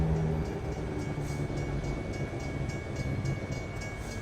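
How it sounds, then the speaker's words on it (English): A train rumbles past in American Truck Simulator, a steady low rolling roar with faint clatter that holds at close range for several seconds and has no voices over it. "Oh, man, we're getting hit with all the trains tonight."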